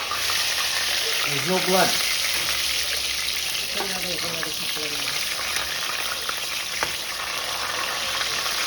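Chicken frying in hot oil for a Trinidadian lowmein and fried chicken meal gives a steady, close sizzle and hiss throughout, with brief stirring clatter and someone talking over it now and then.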